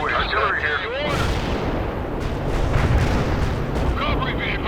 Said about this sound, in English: Artillery's ready. Firing at coordinates.